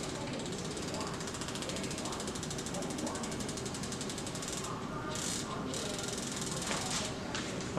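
A bicycle wheel on a tubeless setup spins freely, its freewheel hub giving a fast, even ratcheting tick that runs continuously and close by, with a few brief dips near the end.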